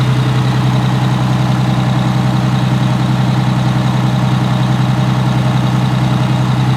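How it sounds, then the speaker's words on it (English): A truck's power steering pump running beside an Allison V730 transmission, a steady close engine idle with a constant low hum and whine, unbroken and with no talking. "This is the power steering right here."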